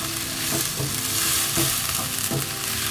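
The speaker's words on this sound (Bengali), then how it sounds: "পেঁয়াজের সাথেই আমি একটু ভাজবো" Dried Bombay duck fries with onions in a pan, a dense continuous sizzle with rhythmic stirring scrapes about every second, close and loud with no voices.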